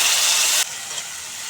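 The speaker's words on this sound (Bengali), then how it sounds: "এখন অল্প জল দিয়ে মশলা ভালো করে কষিয়ে নেব" Ground chilli, turmeric and cumin hiss loudly as a little water hits them in a hot pan, then the sound drops abruptly to a quieter steady sizzle, close up and brief, with no talk.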